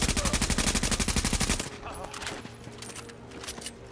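A rapid burst of automatic gunfire in The Division, with about twenty evenly spaced loud shots over a second and a half, then scattered fainter game noises and distant pops.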